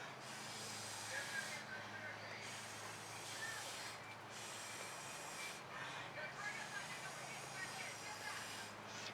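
Air blown through a straw pushes poured fluid acrylic paint, producing close, breathy hissing puffs in several bursts separated by short pauses.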